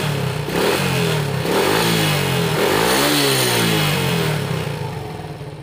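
A Suzuki Shogun motorcycle engine revs up and down close by, its carburetor prone to sputtering, hesitating and flooding, the pitch swelling and sinking through repeated throttle blips with no talk.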